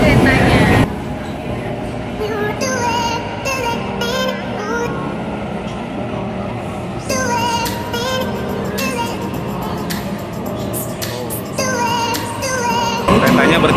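A double-decker Sydney train rumbles through Town Hall station, a broad, steady roar with brighter squeals and clatter, while voices talk close by throughout.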